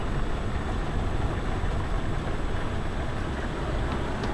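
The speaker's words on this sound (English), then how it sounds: "There's next door's gutter overflowing." A neighbouring house's gutter overflows with rainwater during a storm, a constant, dense rush of water pouring and splashing without letup, steady in level and fairly close.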